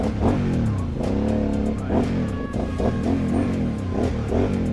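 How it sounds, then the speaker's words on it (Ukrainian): A 2008 Aprilia Shiver 750 motorcycle engine revs up and down repeatedly through its exhaust, close and loud, with rising and falling pitch sweeps and no talking. "от, до речі, про вихлоп"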